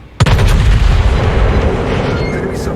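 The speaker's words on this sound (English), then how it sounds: "Fire another salvo at Ranger." A battleship's main guns fire a salvo in a naval warship game, a sharp loud boom at the start rolling into a long, sustained low rumble that slowly fades.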